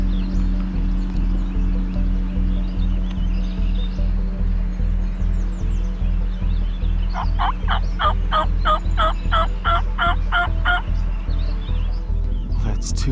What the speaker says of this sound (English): Well, that's 2 big gobblers.